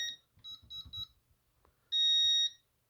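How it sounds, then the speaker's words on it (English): A Concord 4 security system sounds its entry alarm for a front entry door: a few short beeping bursts, then a loud sustained piercing tone for about half a second before it stops, heard close with no talk. "it should instantly go into alarm like that"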